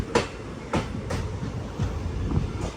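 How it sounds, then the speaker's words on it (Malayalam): The Matsyagandha Express rolls into Kumta railway station, heard from inside the train as a run of rhythmic wheel clacks over rail joints, evenly spaced thumps above a low rumbling roar. "കുംടാ റെയിൽവേ സ്റ്റേഷനിലേക്ക് ഇതാ നമ്മുടെ ട്രെയിൻ എത്തിക്കൊണ്ടിരിക്കുകയാണ്"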